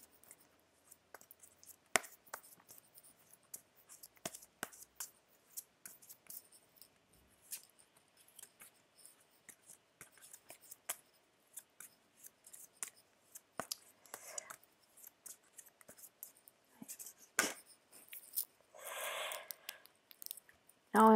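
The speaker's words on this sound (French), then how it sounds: "en même temps que je battais les cartes" Oracle cards being shuffled by hand, soft papery riffles and taps in irregular bursts, quiet and close with sparse gaps between clusters of flicks.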